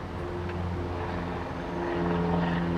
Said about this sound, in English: Oh, and the plane.